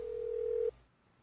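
In the Nancy Drew: The White Wolf of Icicle Creek game, a telephone line gives a steady, pure electronic tone that holds for most of a second and then cuts off abruptly, leaving faint hiss.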